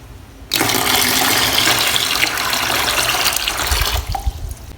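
Cold water gushes into a basin of hot foot-bath water for a home pedicure, a sudden steady pour that starts after a brief quiet moment and keeps splashing for about four seconds before tapering off.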